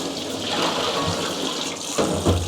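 Tap water runs steadily over broccoli leaves being rinsed in a sink, a close, continuous splashing stream with a couple of slightly louder surges near the end.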